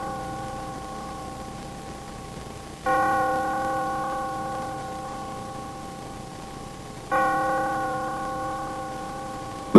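A Herschede hall clock's tubular bells strike twice, several seconds apart, each ringing tone sustaining and slowly fading over a low hum, close and moderately loud.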